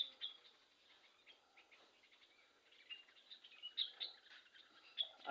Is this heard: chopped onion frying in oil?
no